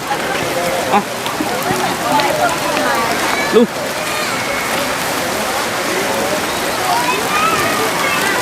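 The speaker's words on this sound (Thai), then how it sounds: "ฝนตกแรงมาก" Steady heavy rain hisses across the whole clip at a Thai buffalo conservation farm in Suphan Buri, a dense wash of noise with people talking over it close by.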